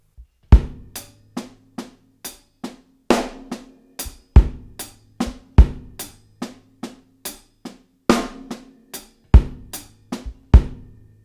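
Drum kit plays a linear groove, the hand shifting from hi-hats to snare, with crisp snare cracks and kick thumps interlocking in a steady, syncopated pattern, close and dry with no voices.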